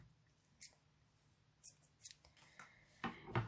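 Scissors snip through crochet yarn while a double crochet granny coaster is being made, giving several short, crisp cuts spread across a few seconds, close and fairly quiet with no talking.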